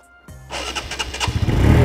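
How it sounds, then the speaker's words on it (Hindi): A homemade car-bike built by joining a car to a motorcycle starts up: a starter whir, then the engine catches and settles into a loud, steady idle that gradually builds in intensity. "तो अब गाइस करते हैं बाइक को स्टार्ट"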